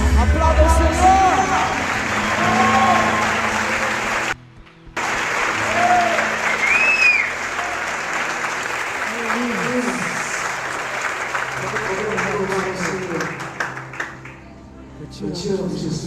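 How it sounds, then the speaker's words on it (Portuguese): A congregation applauds during a church gathering for couples, sustained clapping with cheers and crowd murmur lasting about sixteen seconds, briefly cutting out near the middle, with faint speech mixed in. "Aplauda o Senhor."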